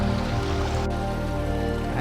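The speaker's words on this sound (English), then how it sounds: "You should be able to hear it at least. Falls are right there." Waterfall on a steep creek in the Ozark National Forest, a steady roar of falling water heard from close below, constant throughout with one brief dip.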